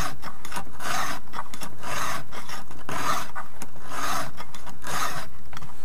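A file rasps across the teeth of a saw chain to sharpen them, loud and close, in quick repeated back-and-forth strokes with no voice over it.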